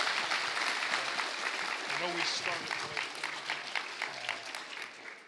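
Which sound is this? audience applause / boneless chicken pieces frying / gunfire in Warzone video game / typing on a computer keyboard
audience applause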